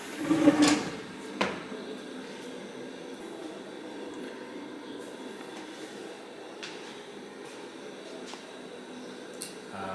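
Kitchen cabinet drawers, a couple of years old and recently repaired, thud and slide shut near the start, then a quieter knock, with faint room noise and light clatter afterward.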